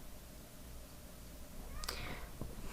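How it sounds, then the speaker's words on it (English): A house cat meows indoors, one faint, brief call rising over a steady background hiss with a soft bump after it, no speech. "There's my cat."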